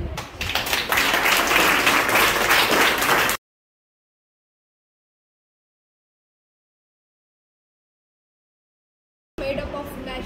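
A class of seventh-grade students claps in a classroom during a social science lesson on volcanic eruptions. A short burst of steady clapping stops abruptly into silence, and brief room sound returns at the very end.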